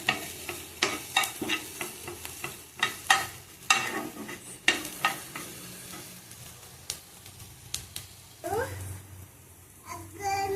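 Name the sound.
frying in oil for egg Maggi noodles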